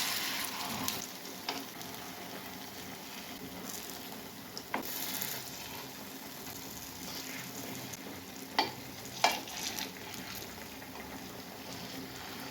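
Banana sweet balls fry in oil over a medium flame with a continuous soft sizzle, broken by occasional sharp pops and spatters, close by and without talking.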